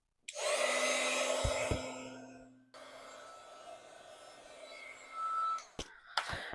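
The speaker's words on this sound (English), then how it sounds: "I'm just going to warm up my heat tool and melt this embossing powder" A heat tool blows a steady loud whoosh while melting embossing powder on a card panel, with a low hum in the first seconds, then a softer continuous airflow and a few sharp clicks near the end.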